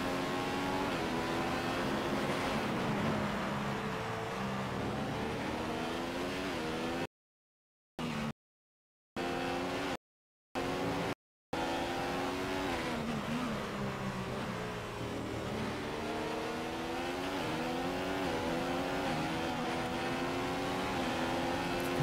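F1 race car engine in the F1 2015 video game at the Brazil circuit, a loud, close, high-revving whine that climbs and drops through gear changes, broken by several brief dropouts, no talk.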